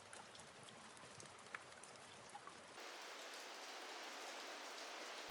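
Steady rain hissing as broadband noise, rougher with patters of drops at first, then a smooth, even downpour continuing without pause.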